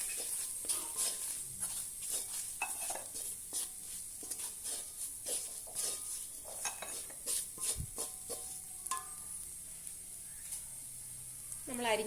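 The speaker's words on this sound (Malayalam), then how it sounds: "ഒരു ടീസ്പൂൺ മുളക് പൊടി അര ടീസ്പൂൺ കാശ്മീരി പൊടി ഇത്രയും കൂടെ ചേർത്ത് നന്നായിട്ടൊന്ന് ഇളക്കി കൊടുക്കാം" A spoon stirs chili powder and Kashmiri chili powder into a curry in a pan, giving repeated scraping and clinking strokes over a soft sizzle, with a brief sharper knock and short spoken moments mixed in.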